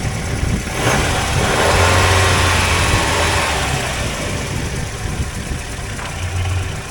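A 2002 Mazda Miata NB engine with its five-speed transmission runs loudly and close by, idling with a rough broadband roar and a couple of brief low rises in pitch.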